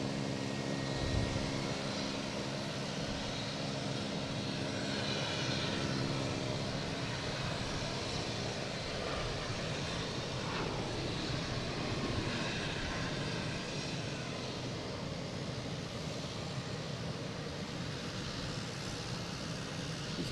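United airliner arriving on runway 27 at Boston Logan, a sustained engine roar with faint whining tones, holding steady at moderate distance for about twenty seconds, no voices.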